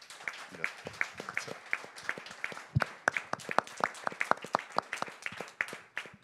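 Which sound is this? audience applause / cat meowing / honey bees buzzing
audience applause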